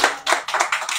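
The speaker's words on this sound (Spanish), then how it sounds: "Un aplauso para Trófalo" A brief burst of hand clapping from a small group, a few quick rounds of applause fading in and out, fairly close.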